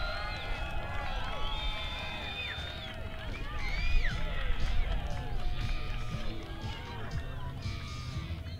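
Spectators at a men's gold medal beach volleyball match cheer loudly, with whistles and sustained crowd roar that swells midway, an announcer's voice mixed in.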